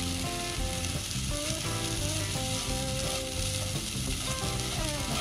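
Fried rice frying in a pan gives a dense, continuous sizzle under steady background music with a repeating melodic line and no voices.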